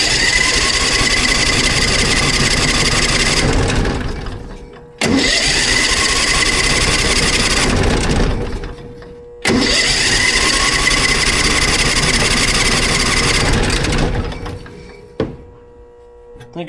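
A buggy engine cranks over in three long, loud bursts of several seconds each with short pauses between, catching and running roughly before dying back, close and outdoors on a spring day.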